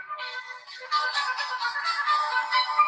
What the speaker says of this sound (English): sorry, my phone's going off. Turn it off.